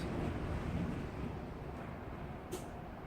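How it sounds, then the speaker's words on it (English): Typhoon Jebi wind easing during a lull, a steady low rushing roar buffeting the microphone, fairly faint and unbroken, with no voices. "a bit of a lull in the wind now"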